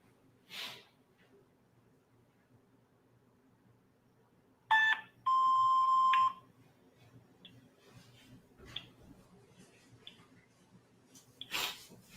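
A phone call reaches voicemail: a short electronic tone, then a sustained steady beep of about a second, surrounded by quiet room sounds and a few brief noises.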